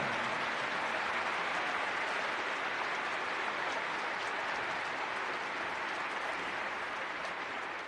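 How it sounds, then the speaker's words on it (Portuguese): Audience applauding a speech, a dense, even wash of clapping from many hands held steady at moderate loudness throughout. "e a assistência responde com aplausos"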